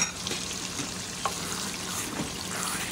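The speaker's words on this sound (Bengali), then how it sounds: "একটু নাড়াচাড়া করে দিয়েছি যাতে সব কিছু একসাথে মিশে যায়" Spice tempering gets stirred into a cooked-down masala curry in a pan, giving a dense continuous sizzle with faint spoon clicks, near and unaccompanied by speech.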